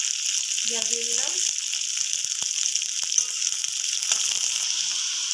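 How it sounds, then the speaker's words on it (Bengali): Onions frying in oil with tempered spices for a spicy fish curry give a steady, bright sizzle throughout, close and continuous, with a few soft pops and light stirring clicks and a brief faint tonal sound near the start. "আমার পেঁয়াজটা ভাজা ভাজা হয়ে যাচ্ছে"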